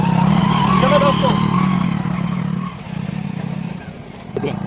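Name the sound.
motorcycle riding on a rough forest road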